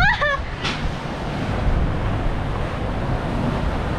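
Strong wind roars steadily at sea aboard a reefed sailboat in gusts near 40 knots, a dense broadband rush buffeting the microphone throughout, with a brief high voice cry at the very start.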